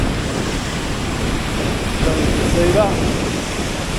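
Waterfalls pour down near the Atlantic Road in Norway, a steady loud rushing roar mixed with wind buffeting, while a voice speaks briefly over it.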